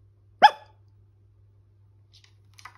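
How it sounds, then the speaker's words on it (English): A single sharp bark rings out once, clear against near silence, followed by faint high chirps a moment later. "There's a noisy doggy out there."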